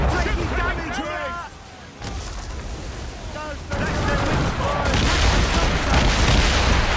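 Ship cannon fire in the naval combat of the Assassin's Creed Rogue video game, several heavy booms rolling out amid crew shouts and game voices, growing louder and denser toward the end.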